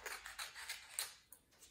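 Scissors cut across a paper worksheet in a kindergarten classroom, a quick series of close, crisp snips and rustles, quiet and without talking.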